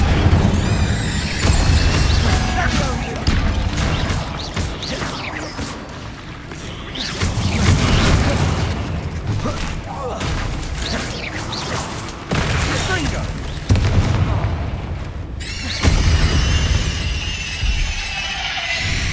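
Incendio fire spells in Hogwarts Legacy on PS5 burst in heavy blasts and whooshes amid clanking game effects and a loud score, while a player shouts spell names over the action.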